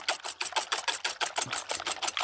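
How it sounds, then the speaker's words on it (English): Eggs whisked vigorously in a bowl for a scramble, a rapid, even rhythm of about five wire-whisk strokes per second, close and continuous with no talking. "start getting a little bit vigorous with that whisk"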